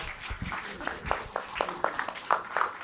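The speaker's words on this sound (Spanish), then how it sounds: "Un aplauso, por favor." An audience gives light, scattered applause for an author at an event, with separate claps landing at an uneven pace. The sound is faint and thin, more like a few people clapping than a full ovation.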